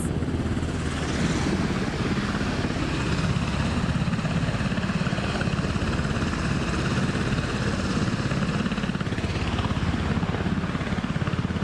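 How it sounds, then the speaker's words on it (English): A Coast Guard helicopter carries survivors of a crash involving two FA-18 Super Hornet jets, its rotor beating in a loud, steady, close chop throughout with no talk. "this is a helicopter from the Coast Guard transporting the first 2 survivors"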